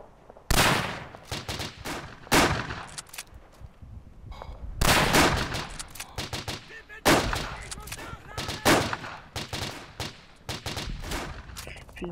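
Rifle fire in the video game Verdun, set in World War I trench battle with a five-round rifle: sharp shots crack repeatedly, some near and loud, others in quick bursts, spaced irregularly across the scene without voices.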